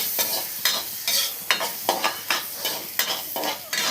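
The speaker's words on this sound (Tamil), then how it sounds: "இந்த பட்டரோட பூண்டு போட்டு வதக்கும்போது ஸ்மெல் வந்து ரொம்ப சூப்பராக இருக்கும்." Garlic sizzles in melted butter in a pan, with rhythmic stirring scrapes about twice a second over a continuous frying hiss, close and clear.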